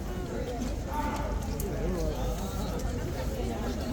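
Hooves of a Household Cavalry mare clip-clop steadily at Horse Guards, close and continuous under a busy crowd murmur and background chatter.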